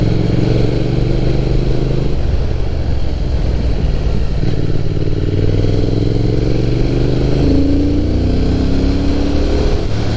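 A motorcycle revs hard through its rev range on Okutama Shuyu Road (Route 206) in Japan, with a loud, continuous engine drone and strong induction roar that climbs steadily in pitch near the rider.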